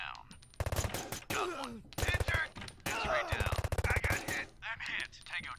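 Rapid bursts of automatic gunfire from the Door Kickers video game, loud repeated volleys in quick rhythm with short pauses between them, with a voice faintly under the shots.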